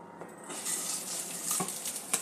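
Spice-coated rice for Bengali sweet pulao fries gently in a pan with a soft, steady sizzle and hiss, broken by a few light stirring clicks and no speech.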